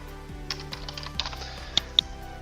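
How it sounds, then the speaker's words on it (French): A few sharp, close computer mouse clicks, isolated and irregularly spaced, over a quiet background while entering a student absence in a school web portal. "Je clique toujours sur valider et à la fin, je finis par cliquer sur enregistrer."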